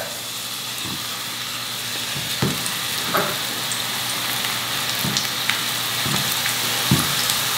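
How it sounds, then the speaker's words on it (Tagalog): Oil sizzling steadily as eggplant fries, with a constant hiss broken by occasional soft clinks and taps from a utensil every second or so. "at ipiprito ko na yung talong"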